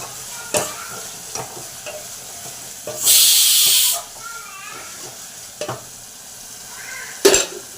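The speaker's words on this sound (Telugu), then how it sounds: "కొంచెం అల్లం వెల్లుల్లి పేస్టు పచ్చివాసన దాకా కొనిచ్చుకుందాం" Ginger garlic paste frying and stirred in a pan while cooking mutton paya, with scattered spoon scrapes and soft sizzle and a loud burst of hiss for about a second midway, plus a couple of sharper knocks.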